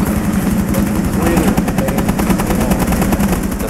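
Rapid automatic gunfire from the video game Rainbow Six Siege rattles in a fast, continuous stream, loud and close, with no talk over it.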